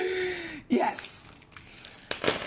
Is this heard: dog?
no